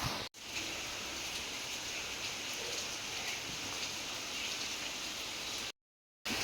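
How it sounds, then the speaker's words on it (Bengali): Steady rain falls outside, a dense, even hiss of drops with no voices, continuing unbroken before cutting to silence near the end. "দেখো কীরকম বৃষ্টি হচ্ছে বাইরে।"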